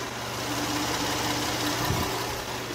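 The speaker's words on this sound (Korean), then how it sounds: "역시 GDI 가솔린 엔진답게 정말 정숙하고 깔끔한 엔진 사운드까지 잘 들려주고 있는 모습이고요" A 2015 Hyundai Grandeur HG 300 GDI gasoline engine idles steadily up close with the hood open, a smooth even hum with a faint rhythmic tick and no voices.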